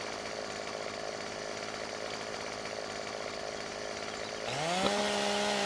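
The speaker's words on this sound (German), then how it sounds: "Wir sägen den Baum durch." Chainsaw cutting through a tree in Farming Simulator 17, a loud continuous buzzing engine drone that rises sharply in pitch near the end as it revs.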